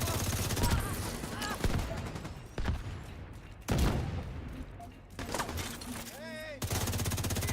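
Gunfire in The Division 2, sustained automatic bursts with brief pauses, loud and close, mixed with game effects and occasional electronic tones.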